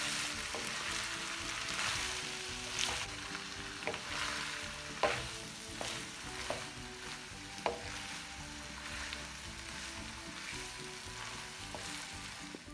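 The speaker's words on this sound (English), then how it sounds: "I just added my macaroni and then I'm gonna stir up everything" Macaroni and salt fish are stirred in a hot pot. A soft, continuous sizzle runs under the stirring, broken by several sharp scrapes and clinks of the spoon against the pot.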